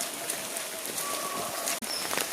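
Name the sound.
rain falling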